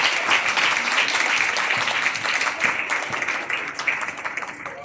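A crowd at a church Christmas and New Year gathering claps for the pastors on stage, a dense, continuous wash of applause that thins slightly toward the end, with faint voices mixed in.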